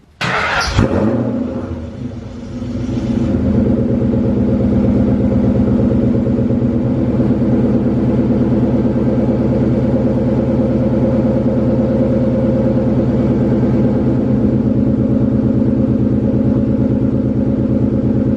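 A Foxbody Mustang cold-starts with a brief crank and bark, then holds a steady, loud, rumbling idle up close for a long stretch.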